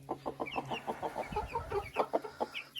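Chicks kept under a brooding hen, with a rapid run of soft, even clucks and high peeping calls, close and fairly steady throughout, with no talking.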